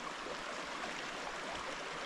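A small creek at a campsite flows in a steady, unbroken broadband rush of water, close and even throughout, with no voices or other sounds.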